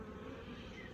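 Honey bees buzz at an apiary hive, where the year's first swarm has settled into two brood boxes; the hum is steady, faint and continuous, with no voices.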